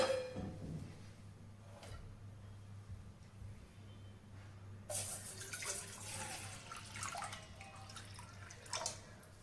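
Water splashes and trickles into a container after a quiet start, with a low steady hum underneath.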